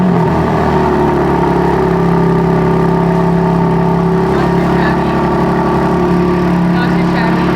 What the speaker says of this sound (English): Just give me a good old cold start for the boys right I quick.